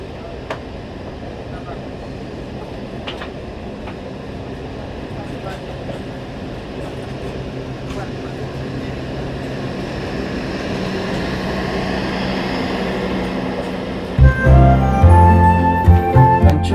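A luxury compartment-suites passenger train on the Bandung to Banyuwangi route rumbles along the rails with a steady, loud, continuous roar. A sharper clattering burst enters near the end.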